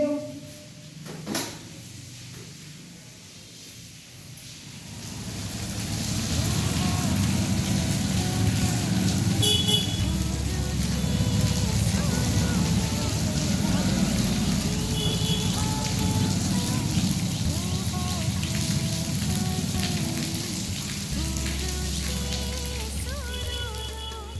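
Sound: rain falling

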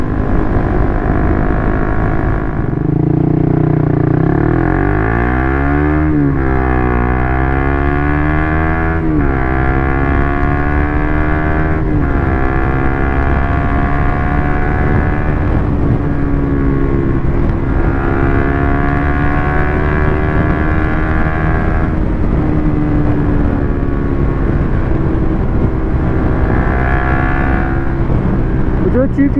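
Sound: Suzuki GSX-R150 motorcycle riding with Yoshimura GP-Magnum exhaust

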